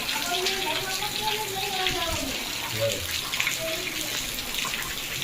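Water pours steadily from a rooftop terrace during rain, a continuous splashing rush close by with a voice talking faintly underneath.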